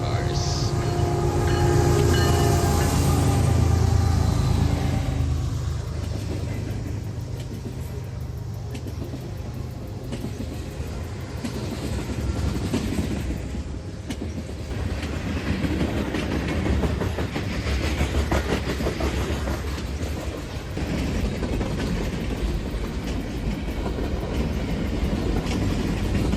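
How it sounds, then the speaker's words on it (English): CN freight train 424 out of Sarnia, bound eastbound for Toronto Yard with tank cars, hoppers and boxcars, rumbles loudly past at close range, its wheels clacking steadily over the rails as the roar slowly eases. "424 comes out of Sarnia, heading eastbound to Toronto Yard, carrying tanks, hoppers, boxcars."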